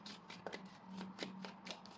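Tarot cards are shuffled by hand close up in a quiet room, making a soft run of quick papery riffles and flicks in irregular bursts.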